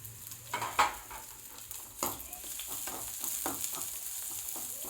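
Dried red chillies fry and crackle in a pan as they are stirred, with uneven scraping bursts over a steady sizzle, close and moderately loud.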